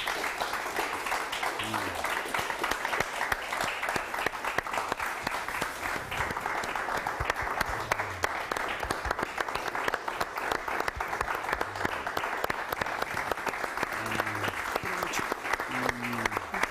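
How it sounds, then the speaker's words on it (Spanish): Steady, dense applause from a studio audience at a Spanish-language television interview, sustained and even throughout with no break. "Te vamos a aplaudir porque te admiramos y te queremos."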